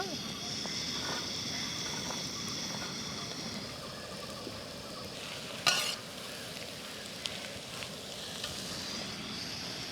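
Chopped ginger, garlic and onion sizzling and frying in a pan while being stirred, a steady close crackle with a brief louder clatter partway through, under a speaking voice.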